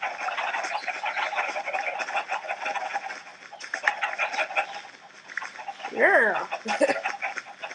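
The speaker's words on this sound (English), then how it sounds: "look at all these chickens." A crowd of chickens in the Minecraft video game, set up with an elemental arrows mod, clucks continuously in a dense overlapping chatter, with a brief voice heard over it.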